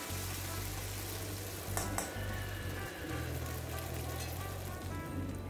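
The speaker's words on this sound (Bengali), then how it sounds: "ভালো করে একটু নাড়াচাড়া করে পোস্তটা তেলের সঙ্গে" Poppy seed paste sizzles steadily in hot oil while being stirred for a prawn malai curry, with a constant close frying hiss and a few brief scraping knocks from the spoon.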